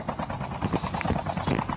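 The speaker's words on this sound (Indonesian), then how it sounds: "Ada helikopter nih" A helicopter in the mobile shooter Call of Duty Mobile makes a pulsing rotor thump and engine drone at moderate volume, with uneven rhythmic beats across the clip.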